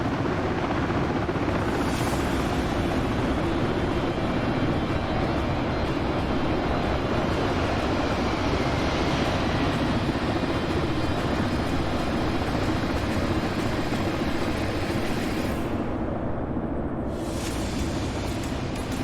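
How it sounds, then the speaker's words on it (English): Two A-10C attack jets of the 354th Fighter Squadron flying past at the Henderson Air Fest 2022 air show, a loud steady broadband jet roar that holds throughout, with wind buffeting on the microphone. "From the right, the two A-10Cs of the 354th Fighter Squadron from Davis-Monthan Air Force"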